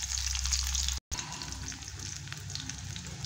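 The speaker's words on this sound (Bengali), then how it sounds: "এখানে রসুন পেঁয়াজ শুকনো লঙ্কা কিন্তু ভাজা হয়ে গেছে" Garlic, onion and dry red chilli fry in hot oil in a kadai, giving a steady close sizzle with a faint bubbling texture. A brief cut breaks the sound near the start.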